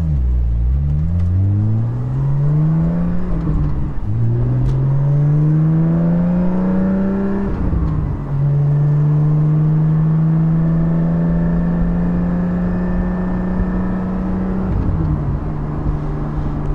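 Porsche 718 GT4 engine with a Soul Performance exhaust rear section, heard from the cabin on a drive: a steady drone rising through the gears at lower revs, with a resonant boom as the throttle rolls in.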